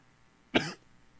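A single short, sharp cough, close and abrupt, during a Sunday morning church service in an otherwise quiet room.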